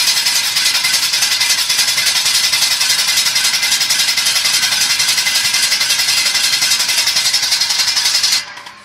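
A Vulcan 25 kW gasifier system's engine runs loud and close, a fast, even mechanical chatter with a bright rattling edge that holds steady for several seconds before cutting off abruptly near the end.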